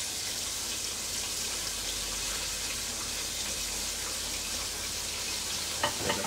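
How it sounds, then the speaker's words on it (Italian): Wine sizzles and steams off in a hot pan for spaghetti with mussels, a steady, loud frying hiss that fills the kitchen, with faint clinks near the end. "facciamo evaporare il vino"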